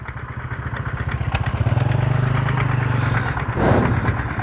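A diesel tractor with a trolley attached chugs steadily nearby at a road shoulder worksite, a rhythmic low thumping throb, growing slightly rougher near the end.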